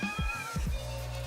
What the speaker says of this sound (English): My cat is breaking in.